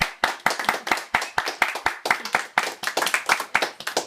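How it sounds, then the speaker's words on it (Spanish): A congregation claps hands at a church gathering. The sharp, close, fairly rhythmic claps repeat steadily for several seconds, with little talk underneath. "Un aplauso al hermano."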